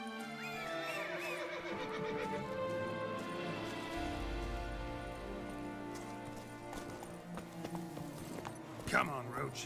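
Hoofbeats of the horse Roach from The Witcher 3 clop along under game music and a horse's whinnies, with a speaker's voice over the game.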